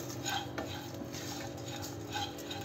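Whole cardamom pods and cloves stirred while dry-roasting in a pan for lemon pickle spice, a spoon scraping and clinking softly against the metal in a steady, quiet rhythm, with no talking.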